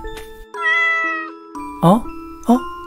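A cat gives a few distinct meows, the first long and drawn out and the later ones shorter and sharper, set against a steady electronic tone with a voice present.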